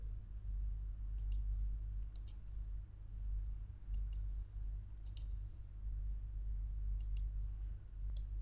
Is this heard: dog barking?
no